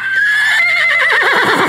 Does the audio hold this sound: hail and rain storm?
no